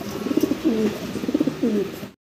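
Pigeons at a pigeon sale, a pair in grizzle colouring, cooing in repeated rolling phrases, fairly close and clear, with no talk over them before a sudden cutoff.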